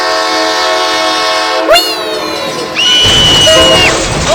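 A toy train rushing past on a model rail line in a staged crash scene with a toy car stuck on the tracks, with rising horn or whistle tones and a sustained loud blast, building toward a heavy passing roar near the end.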